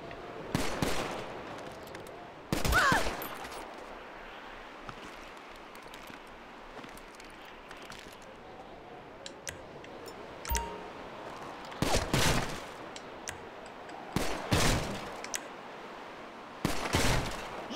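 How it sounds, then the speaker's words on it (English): Intermittent gunfire in GTA Online, with sharp bursts of several shots spaced across the span over a steady low background and no talking. "Shoot her head, at her head."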